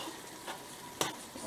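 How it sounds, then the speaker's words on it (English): Beef is briefly stirred in a pot after a little water goes in, giving a quiet sizzle with soft scraping strokes and one sharper clack. "Stir a bit"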